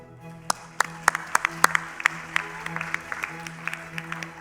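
Sparse, scattered clapping from a graduation ceremony audience for students receiving MBA postgraduate diplomas. Individual sharp claps ring out at an uneven rhythm over a low, steady hum.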